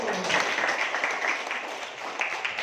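Audience applause at a village meeting marking completion of a village master plan, steady dense clapping throughout at moderate level.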